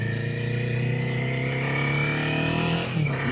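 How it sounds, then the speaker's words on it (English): A car engine with a new aftermarket exhaust idles with a low, steady throaty rumble from the exhaust, rising briefly near the end as it revs. "sweet purr of this new exhaust"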